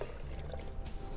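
Warm water is poured over coconut for making coconut sago, a brief liquid splash and trickle close up in a kitchen.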